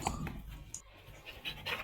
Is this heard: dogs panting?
yes